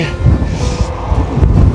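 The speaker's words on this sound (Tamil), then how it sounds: "என் சட்டை அப்படியே ஆடுதுன்னு அப்படியே காத்துன்னு" Strong wind buffets the microphone in Wales, with loud rumbling gusts and a flapping shirt, continuous and close throughout.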